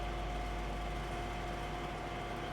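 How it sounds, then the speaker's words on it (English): A tractor in the Midtown USA farming video game idles with its motor on, giving a steady low rumble with a faint constant hum on top, even and unchanging throughout, with no speech. "Got a tractor in here with motor on."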